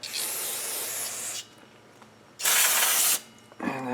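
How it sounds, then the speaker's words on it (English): Brake cleaner sprayed onto the front brake disc of a 2008-2018 Kawasaki KLR 650, two loud close hissing bursts separated by a quiet pause, the second shorter and brighter. "So I got some brake cleaner here."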